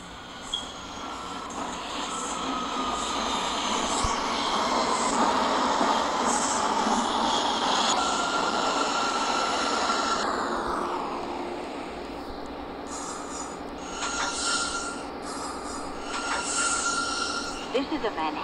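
A Manhattan-bound J local subway train on Hmmsim 2 rolls through Kosciuszko Street with a loud, sustained electric motor whine and rumble that winds down as it slows. Near the end come chimes and faint beeps.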